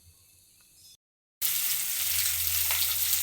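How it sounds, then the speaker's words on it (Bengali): Fish fry in a pan with a loud, continuous sizzle that bursts in after a brief quiet stretch and a moment of silence. "এদিকে এখন আমি মাছগুলো ভেজে নিচ্ছি।"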